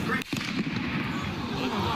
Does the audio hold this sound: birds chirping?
no